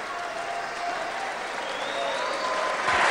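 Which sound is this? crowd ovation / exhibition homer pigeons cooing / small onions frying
crowd ovation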